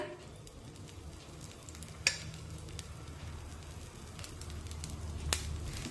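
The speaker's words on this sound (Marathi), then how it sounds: "आता या थालीपीठावर थोडंसं तेल सोडूया" Oil drizzled onto a potato thalipeeth in a pan gives a faint, steady low sizzle with a couple of sharp crackles and pops, and no one is speaking.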